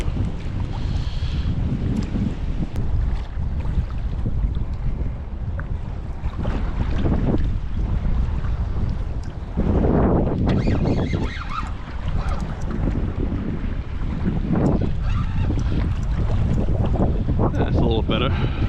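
Strong wind of about 20 knots roars across the microphone for the whole stretch, with waves and water slapping against a fishing boat beneath the constant gusting.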